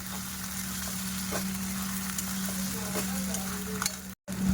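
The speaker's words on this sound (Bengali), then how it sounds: "আগে ভালো করে একটু কষিয়ে নিচ্ছি" Ginger frying in oil for a thin mutton curry, with a steady close sizzle and occasional scrapes from stirring, then a brief cut to silence near the end.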